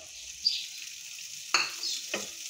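Minced keema meets hot masala in a pan, giving a soft steady sizzle broken by three sharper stir-and-scrape bursts, close and fairly quiet, with no talking.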